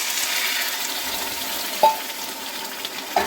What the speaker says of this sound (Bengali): দিয়ে দিচ্ছি বেটে রাখা সজনে শাকটা